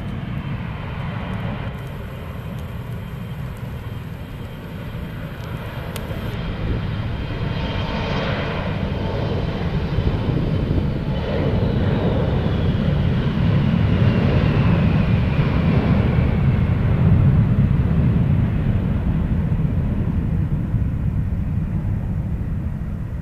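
Propeller military transport planes of the Japan Self-Defense Force, such as C-130s and C-160s, fly past an airport, a loud steady engine drone that swells gradually and holds throughout without speech.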